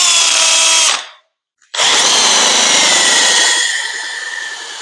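A power drill whines loudly as it bores mounting holes in a jack for a Harbor Freight 20-ton shop press, pauses briefly in silence, then starts again and runs steadily, tapering slightly at the end.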